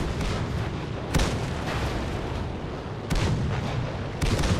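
Three heavy tank cannon shots in World of Tanks land at even intervals over a continuous battlefield rumble, each a sharp loud boom with no talking.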